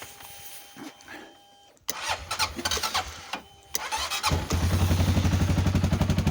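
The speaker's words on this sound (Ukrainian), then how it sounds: "Двигунчик працює добренько, не димить." An ATV engine, a CFMoto 400, cranks and catches, sputtering briefly before settling into a steady, loud idle with a rapid rhythmic chug, close to the microphone.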